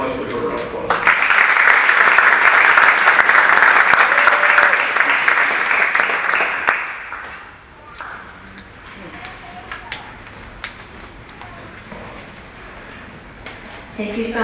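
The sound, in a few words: applause for Angie Zimmerman Poole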